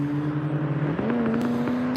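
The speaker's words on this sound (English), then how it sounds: "A lot of traffic out here, a lot of noise." Outdoor road traffic hums steadily, with a low engine drone that shifts pitch midway as a car passes close by; no one speaks.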